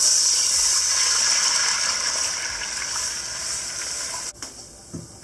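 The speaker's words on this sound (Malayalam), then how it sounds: "ഇനി ഇതിലേക്ക് പാൽ ഒഴിച്ചു കൊടുക്കാം." Milk poured into a pan for paalada payasam, a soft steady hissing pour that runs for about four seconds, then stops with a few light knocks.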